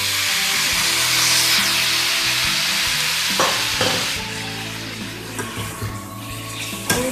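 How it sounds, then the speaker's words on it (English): Tomatoes go into golden-fried onions in a pan, giving a loud continuous sizzle with stirring scrapes and a few sharp clinks near the end. "I will be adding the tomatoes to it."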